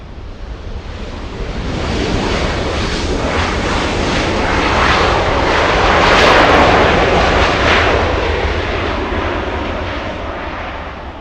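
An Embraer E175 jet airliner at Los Angeles airport roars through its takeoff run, a loud, steady engine rumble that swells and then holds, with no talking.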